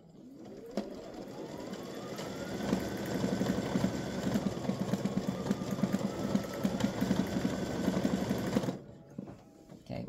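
An embroidery sewing machine stitches an earring set, running steadily with a fast mechanical rattle for most of the stretch before stopping near the end, close and fairly loud.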